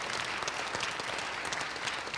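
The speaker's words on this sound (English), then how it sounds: "let's give a nice round of applause for Brian" Audience applause after a film program, steady sustained clapping from a sizable crowd throughout, no voices over it.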